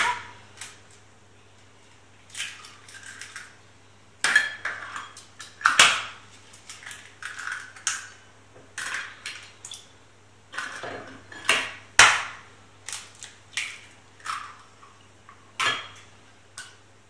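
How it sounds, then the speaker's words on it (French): Eggs beaten for an omelette in a bowl with a utensil: irregular clinks and tapping strokes against the bowl in uneven bursts, with quiet gaps between and a low steady hum underneath. "Nous allons battre les œufs en omelette."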